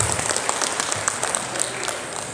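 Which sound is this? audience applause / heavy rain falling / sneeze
audience applause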